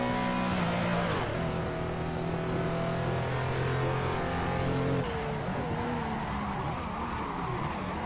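A modified RUF CTR Yellowbird in the Assetto Corsa racing game, running with traction control on. The engine revs hard, drops sharply, then climbs again through a long, loud sweep of engine tone with a faint tire squeal.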